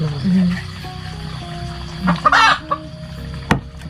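Chickens cluck and squawk close by at a rural Thai home, a few short bursts standing out over steady background noise.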